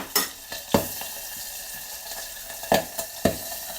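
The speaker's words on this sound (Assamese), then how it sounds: "মাগুৰ মাছৰ পিছা ভাজিছোঁ কিন্তু চাব ইয়াত খুব ফুটে" Magur catfish pieces sizzle in hot oil, spattering with sharp, loud pops that burst out every second or so over a constant hiss.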